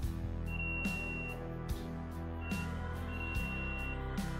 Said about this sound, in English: The buzzer and the LED both turns on.